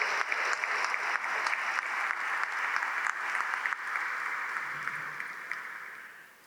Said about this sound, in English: Please give them a round of applause for the work that they did this year.